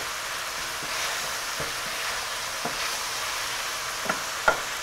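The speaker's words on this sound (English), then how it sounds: "we're just gonna stir this and make sure all the meat is brown and nice and cooked" Sweet sausage meat browning in a pan for a ragu, giving a continuous close sizzle and frying hiss with soft scraping strokes from stirring and a few light clicks near the end.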